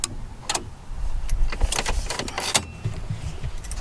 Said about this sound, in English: But I hear the main relay clicking.